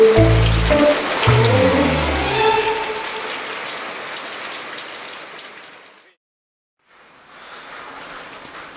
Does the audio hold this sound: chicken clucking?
no